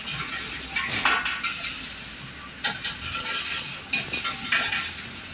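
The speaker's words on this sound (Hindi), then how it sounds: "सो अच्छे से इसको अंडे को हम पका लेंगे।" An egg fries in oil in a wok for pad Thai, giving a steady close sizzle broken by occasional scrapes and light clinks of stirring.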